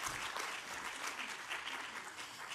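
Brief, lively applause from a church audience, dense clapping at an even level.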